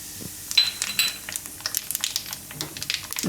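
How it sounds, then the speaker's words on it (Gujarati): Kalonji (nigella seeds) crackle and spatter in hot oil in a pan, a close, busy sizzle of small pops that runs throughout. "તો તેલ હવે આપણું ગરમ થઈ ગયું છે. એમાં નાખીશું કલોંજી"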